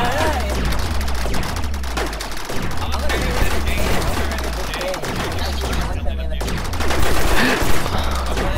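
Dense, continuous rapid gunfire from blasters in a Star Wars battle in Rec Room, loud bursts overlapping with a shouting player's voice throughout.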